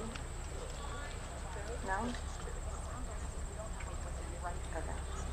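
At the Hampton Classic horse show, an adoptable rescue horse trots along, its rhythmic hoof clip-clop faint and somewhat distant beneath people talking nearby.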